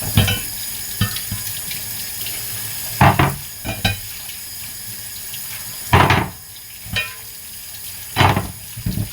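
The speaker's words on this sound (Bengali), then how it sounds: "দেখো গ্যাসের জিপগুলো ধোবো" Gas stove parts being rinsed under a running kitchen tap, a steady stream of water with several sharp splashing bursts as the pieces pass under it.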